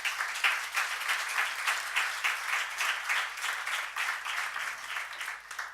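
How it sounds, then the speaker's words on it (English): Conference audience applauding at a Smart Specialisation benchmarking event in 2013, a steady, even round of clapping from a moderately distant crowd lasting throughout, with no talk over it. "I would like to really give an applause to Ulf and to Maria for this."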